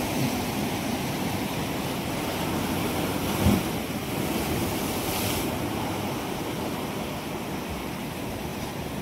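Large ocean waves surging and breaking on a rocky shore where someone fishes for crabs, a constant loud roaring wash with wind buffeting and one sharper crash near the middle.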